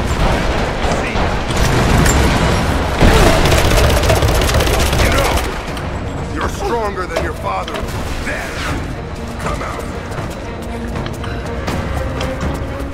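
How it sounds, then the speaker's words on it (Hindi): Loud video game combat from Rise of the Tomb Raider: a dense barrage of gunfire and explosive rocket launcher blasts, easing into scattered shots and rumbling effects, with someone talking over the action. "अच्छा लॉन्चर भी दागने लगा क्या?"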